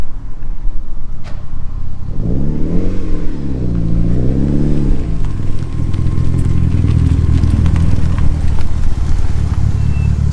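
A Mitsubishi Evo fitted with a new turbo drives past, its engine note rising and falling in a loud, wavering sweep before settling into a steady, rumbling roar as it moves on.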